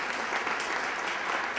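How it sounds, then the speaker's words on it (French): Brief burst of audience applause at a forum on mining in Québec, dense and fairly soft, lasting under two seconds. "Moi, je pense que ça mérite un applaudissement quand même."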